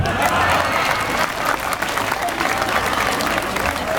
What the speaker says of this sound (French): Applaudissons. Applaudissons. Applaudissons.